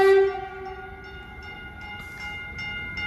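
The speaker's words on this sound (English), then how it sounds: "Here it comes. It's an EMU Statler." A Caltrain electric multiple unit Stadler train arrives at Redwood City station, sounding one loud tonal horn blast at the start before its steady, humming approach carries on.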